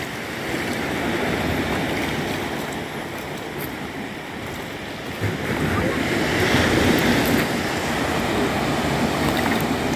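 Ocean waves break along the shore at Surip, a continuous wash of surf mixed with wind buffeting the microphone, swelling louder in the second half.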